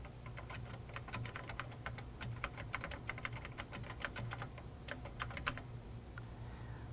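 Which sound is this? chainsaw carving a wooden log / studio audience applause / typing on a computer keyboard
typing on a computer keyboard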